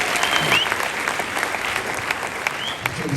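A church congregation breaks into sustained applause, a dense wash of many hands clapping steadily, close and loud, with a few faint voices mixed in.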